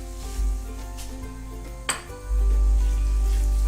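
Tomato masala with yogurt stirred in a frying pan, a steady sizzle with scraping and clinks of a spoon against the pan, one sharp metallic knock midway, close and fairly loud.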